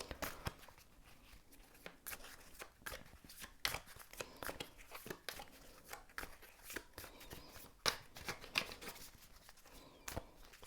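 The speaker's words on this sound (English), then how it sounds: "I'm going to shuffle some of these Gypsy Oracle cards" Gypsy Oracle cards riffle and slap together in repeated bursts with brief pauses, close up and fairly soft, with no voices.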